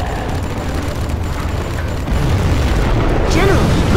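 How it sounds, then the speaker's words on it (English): A nuclear missile detonates in the real-time strategy game C&C Zero Hour. It starts as a loud, deep rumbling boom, swells halfway through and keeps roaring as a sustained low blast. "We have launched our nuclear missile."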